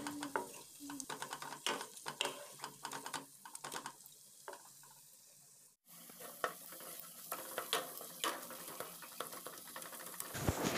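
Onion and tomato frying in a pan with a little salt, stirred with a spatula that scrapes and taps in quick, uneven strokes over a steady sizzle, close and moderately loud, with a brief drop out midway.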